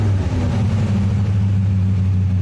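A 1973 Checker cab with split exhaust off the muffler runs steadily, a loud, close, low-pitched engine rumble with a deep, even hum and no voices over it.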